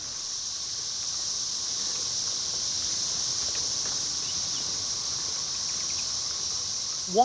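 A chorus of periodical cicadas fills a forest, a continuous loud high-pitched droning that holds steady for the whole stretch with no gaps, broken only by a brief sharp chirp at the very end.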